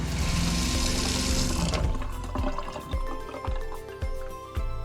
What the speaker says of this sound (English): Now comes the really scary part, turning the water back on